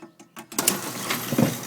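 OHD SEL-201 garage door operator on a 14-foot door, running it downward: a few short clicking pulses, then a smooth, quiet, steady motor whir with a slight mechanical rattle.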